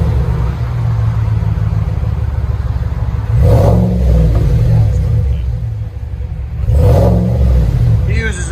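A GMC Sierra Denali 6.2L V8 pickup with straight pipes rumbles loudly nearby, with two strong revs rising and falling over a steady low idle.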